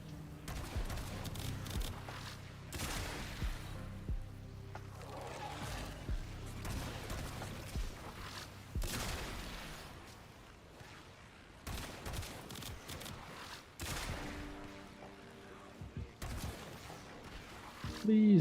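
Bursts of rapid gunfire from the shooter game Warframe, fairly quiet, crackling in repeated volleys with short gaps between them.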